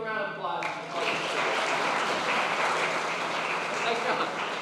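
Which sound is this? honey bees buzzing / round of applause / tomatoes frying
round of applause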